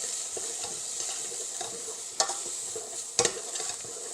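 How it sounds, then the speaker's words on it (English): Sliced onions, about a cup and a half, sizzle steadily in a pot for a beef stew, with two louder scraping stirs partway through and a softer hiss carrying on between them. "we're going to throw it in to the pot. And we'll just give it a stir around."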